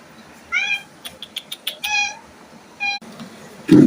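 A cat meows in a series of short, high calls, some clustered in quick succession and others drawn out, close by in a quiet indoor space, followed by a louder low thump at the end.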